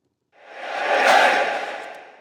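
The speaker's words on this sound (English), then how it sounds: "then I have like a little reverse reverb" A reverse reverb swell in an electronic music production, a single breathy wash that fades in from silence, peaks in the middle and tails off softly, heard alone.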